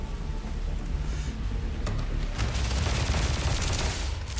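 Automatic gunfire in the Starfield video game: a steady, fairly quiet rattle of fast shots runs throughout, with a sharper crack near the middle and denser firing toward the end.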